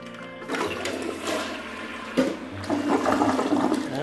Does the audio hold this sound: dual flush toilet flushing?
yes